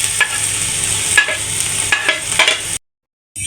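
Peppers and garden-picked red chili sizzle steadily in a hot pan, loud and close, with the scrape of occasional stirring, until the sizzle cuts out abruptly near the end.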